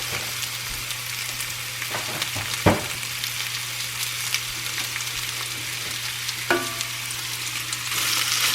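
Maple breakfast sausage added to a pan of softened onions, frying with a steady soft sizzle and a few sharp spatula clicks and stirring knocks, no voices.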